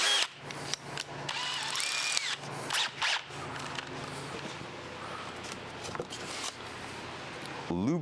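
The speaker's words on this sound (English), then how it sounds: "Let's take the drill over there." Power drill working on a Datsun during a drive-by-cable to drive-by-wire conversion, whirring in repeated bursts with ratcheting clicks and gaps, close and loud, with people talking around it.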